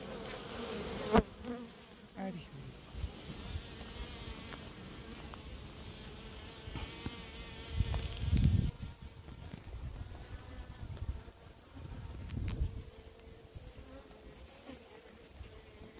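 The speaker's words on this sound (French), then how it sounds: "Les petites abeilles noires." Small black honey bees buzz steadily at a hive where they are filling comb with honey, a continuous close drone with a few handling knocks and brief speech.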